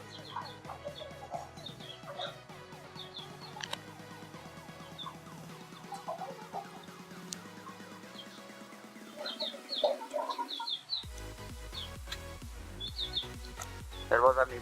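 Chickens, both roosters and hens, cluck around a rural yard in Malvan in the Konkan region, with chirping birds and other background sound layered over the whole stretch.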